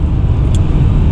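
Steady low engine and road rumble from inside a car on a Swedish road between Jämtland and Dalarna, loud and continuous with no talk.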